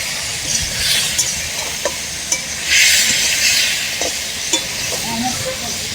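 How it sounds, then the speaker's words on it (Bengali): Spices being stir-fried with drumstick pieces and potatoes in a pan give a steady, loud sizzle with repeated scraping stir strokes, close up, no talking. "এবার মশলাগুলোকে আমি সজনে ডাঁটা আলুর সাথে খুব ভালো করে কষিয়ে নেব।"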